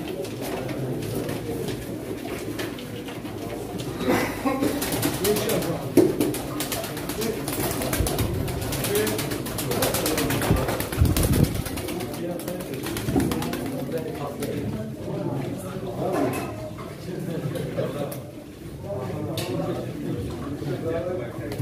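Crested pigeons coo at a pigeon auction, soft repeated calls running under almost constant talking from people nearby.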